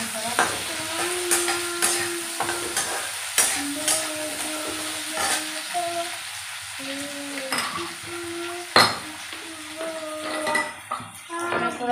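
Chopped onion sizzles with potatoes in a pan for mixed vegetables, the frying steady under repeated metal scrapes and clanks of a spatula stirring, close and fairly loud, with a tonal hum drifting through.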